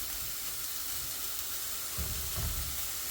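A cheap Aldi Everyday Essentials steak fries in a pan, giving a close, steady sizzle and hiss with a brief louder burst of spitting near the end.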